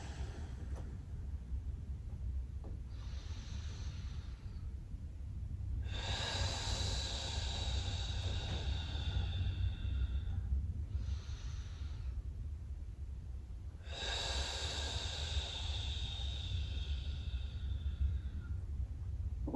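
Slow, deep breaths during a Pilates plank hold, two long airy exhales alternating with shorter inhales, close and clear over a low steady hum.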